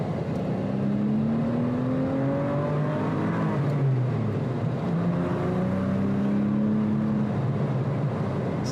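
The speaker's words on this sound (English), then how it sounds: "I hope you could hear the car a little bit too" A Porsche Boxster drives along with a steady engine note and shifting pitch as it accelerates, a continuous loud drone with road and wind noise throughout.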